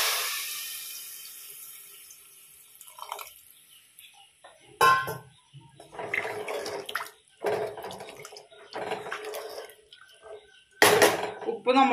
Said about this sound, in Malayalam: ഇനി നമുക്ക് ഇതിലേക്ക് പാകത്തിനുള്ള വെള്ളം ഒഴിച്ചെടുക്കാം